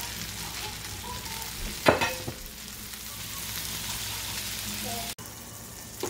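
Strips of turkey bacon sizzle and pop on a hot griddle, a steady loud frying hiss with a brief sharper crackle burst partway through.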